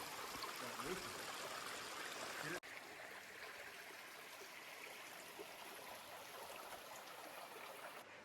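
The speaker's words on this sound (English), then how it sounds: "this is the creek that goes behind his property" A creek runs behind a property in Washington State, a steady, broad rushing of water close by, continuous throughout with one brief dip.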